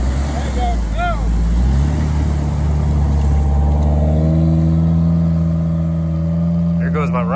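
A K20-swapped Toyota TA22 car pulls away, its engine note rising and steady as it accelerates and recedes, with loud wind or rumble throughout and voices speaking over it.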